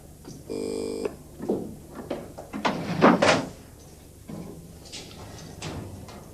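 A door opening and closing in a 1980s British TV drama office, with a few distinct thuds and latch clicks separated by quiet room tone, close and moderately loud.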